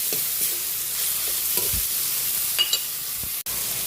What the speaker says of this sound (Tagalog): Pwede na rin natin ilagay yung ating pork, giniling.